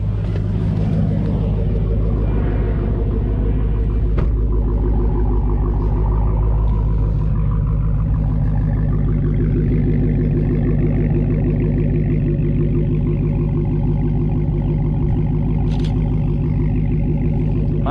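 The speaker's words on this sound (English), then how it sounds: "You guys can enjoy that beautiful idle from the outside." A Dodge Challenger Hellcat sits idling outdoors, its deep, rumbling engine note steady and close, with one brief sharp click partway through and a slight rise later on.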